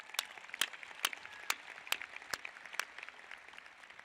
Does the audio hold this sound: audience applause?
yes